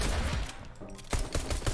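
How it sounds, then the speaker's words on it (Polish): Pistol shots ring out in Fortnite, a rapid cluster of loud cracks at close range with a few more sharp bursts toward the end. "Ja z pistoletu muszę go jakoś zabić."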